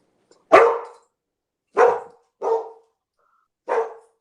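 Close, sharp dog barks: four separate woofs with pauses between, in an otherwise quiet room.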